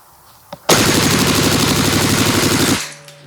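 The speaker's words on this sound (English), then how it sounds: "I'm gonna do a mag dump with the 25 rounds, and then I'm gonna switch mags" A KWA KR7 full metal gas blowback airsoft rifle fires a full magazine in one rapid, loud, continuous burst lasting about two seconds. Single clicks come just before and after the burst.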